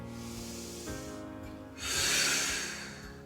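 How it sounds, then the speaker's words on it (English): A loud, airy inhalation swells up and slowly fades, heard over a steady music bed with no talking. "Breathing in."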